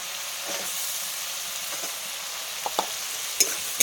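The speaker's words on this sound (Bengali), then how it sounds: "মশলাটিকে ভালো করে কষিয়ে নেব" Onions and spices fry with a steady sizzle in a pan, with a few sharp scrapes and clicks of stirring toward the end; no one speaks.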